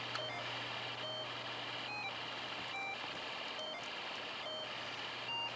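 An ELENCO Snap Circuits alarm IC drives a music IC, so a faint, thin electronic tune is cut into short repeating bursts by the alarm roughly every second, over a low steady hum.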